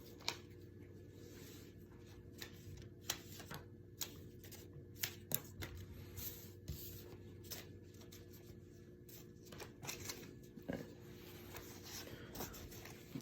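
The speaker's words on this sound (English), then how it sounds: "And for step two, I gotta shuffle these." A deck of cards is shuffled by hand, a quiet run of sharp riffling clicks and soft slaps repeating irregularly throughout, close and faint.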